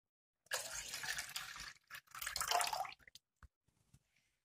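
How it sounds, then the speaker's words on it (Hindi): Water is poured from a cup into a cooking pot for instant coffee in a home kitchen. Two close splashing pours follow one after the other, then a few faint drips and light clinks. "हम 1 कप वाटर लेंगे और वो भी डेक्ची के अंदर डाल देंगे"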